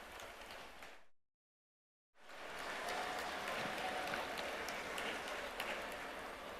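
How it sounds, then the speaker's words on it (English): A crowd applauds warmly, cuts out for about a second, then resumes as sustained, dense clapping that continues steadily to the end. "giving Mayor Adams a warm round of applause"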